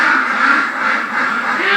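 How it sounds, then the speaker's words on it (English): Ducks quacking at some distance outdoors, a steady murmur of calls lasting throughout, moderately loud with no voices. "Ducks."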